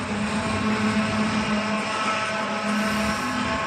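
CSX coal train locomotives rolling past at night in Terra Alta, West Virginia, with a steady, loud diesel engine drone and a constant low hum that holds level throughout, no voices.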